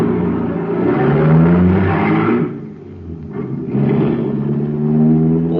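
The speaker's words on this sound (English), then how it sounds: "there's a motor that's supercharged" Supercharged motor engine revving hard as a radio sound effect, a loud roaring drone that climbs in pitch, dips briefly near the middle, then surges again, with no talk over it.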